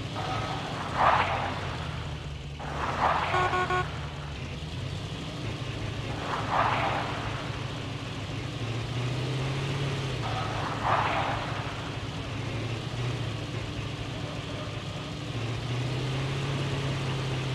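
A propeller plane's engine drones steadily in the Call of Duty: Mobile game, a constant mid-level hum that carries on without a break, with faint chimes rising and fading over it.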